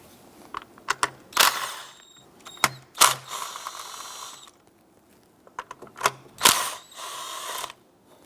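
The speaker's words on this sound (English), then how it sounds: "We're going to remove our ignition coils. 3 10mm bolts there." Ratchet loosening the 10mm bolts on the ignition coils of a Jeep Grand Cherokee 3.6L V6, bursts of rapid clicking in a few separate runs with short pauses between them, close up and with no talking.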